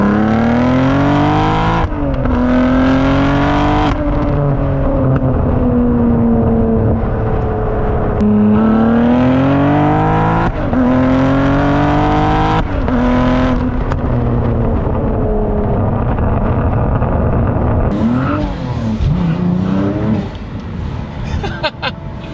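A 650-horsepower Cadillac ATS-V with a twin-turbo V6 pulling away hard from a red light, its loud engine note climbing through several gears with brief dips at each shift, sustained and close for over twenty seconds without speech.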